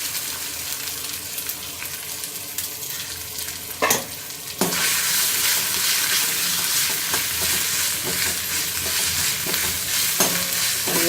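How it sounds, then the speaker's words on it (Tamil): Chopped onions are tipped into hot oil for a groundnut vegetable kurma, and the sizzle jumps sharply when they land. A spoon stirs and scrapes them through a loud, steady frying sound, with no voices. "பொன்னிறமாக வதங்கணும் வெங்காயம்."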